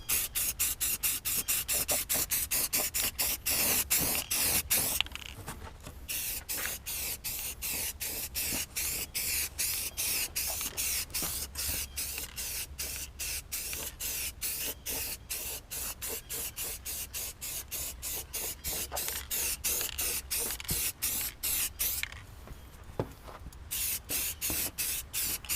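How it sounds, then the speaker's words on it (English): Continuous close hiss of a spray paint can or gun coating parts of a 350 engine during a rebuild, steady with brief pauses and rapid flickering bursts throughout. "just make sure you don't get overspray on your camera"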